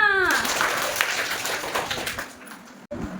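Students clap together in a class 3 Hindi lesson, a dense burst of hand claps that starts right away, holds steady, then thins out and stops near the end.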